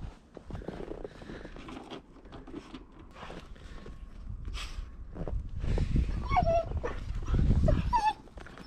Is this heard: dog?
yes